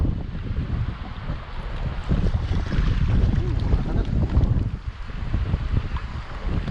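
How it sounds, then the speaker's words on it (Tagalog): Rough sea churns around a small fishing boat off Doha, a constant heavy wash of waves and buffeting wind noise close to the microphone, surging and easing with the swell. "Lakas ng alon."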